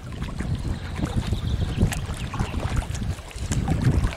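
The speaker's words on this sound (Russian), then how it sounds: "Ветерок, конечно." Steady wind rumbles against the microphone beside a large forest lake reservoir, a constant broadband rush with slight gusts, near and fairly loud.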